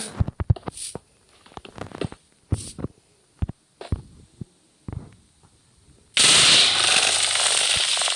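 Explosions in Minecraft amid rainbow lucky blocks: a run of sharp, punchy blasts and thuds spaced irregularly, then a loud, sustained roaring rush of noise that fills the last couple of seconds, with no voices.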